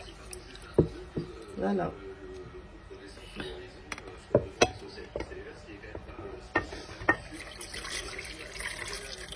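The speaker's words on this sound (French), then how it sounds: "je lave mon couscous" Couscous grains being washed by hand under water, with a series of short splashing, rustling bursts and a steady wet background, while someone speaks briefly over it.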